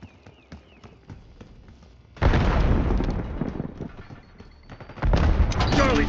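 Video game combat with a frag grenade blast and gunfire: sparse distant shots and clicks, then a loud sudden explosion followed by rattling fire and a second heavy burst, with radio-style voices talking.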